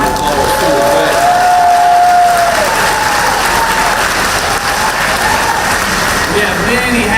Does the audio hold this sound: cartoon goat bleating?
no